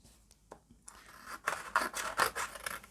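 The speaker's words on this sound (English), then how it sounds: "cut this one in half" A gel print being cut in half, likely with scissors: soft scraping snips, sparse and faint at first, then a louder run of close, rhythmic cutting strokes.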